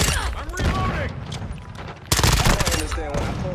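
Rapid automatic gunfire from a weapon in the video game Call of Duty: Modern Warfare II, loud, dense bursts filling the clip with a sharper, louder flurry near the end, mixed with game sound effects.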